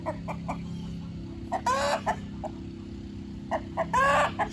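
A chicken clucks in short repeated bursts, with a couple of louder squawking calls, over a steady low mechanical hum.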